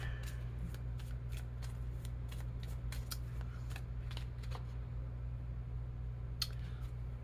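Tarot cards being shuffled by hand, a run of quick riffling flicks and soft card slaps close by over a steady low electrical hum, with no talking.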